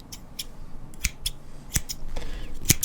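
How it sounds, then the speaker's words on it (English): Barbershop scissors snip in scattered sharp, close metallic cuts at varying speed, single clicks and quick pairs over a quiet background, with no talking. "we're going to do variable speed with all the scissors that we've got"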